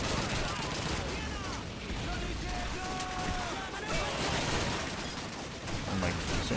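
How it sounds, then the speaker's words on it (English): Heavy rifle and machine-gun fire rattles almost without pause in a Call of Duty 2 village siege, dense crackling bursts layered over one another, with someone talking excitedly through the din. "so many bullets being thrown"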